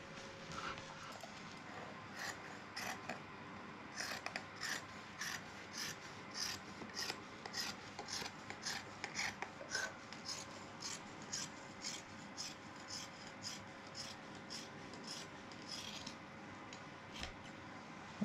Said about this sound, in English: I can just snip it.